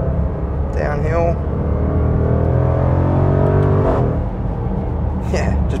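A 2020 Range Rover Velar SVAutobiography V8 gains speed downhill, its engine a loud rising drone heard from inside the cabin, with someone talking over it throughout.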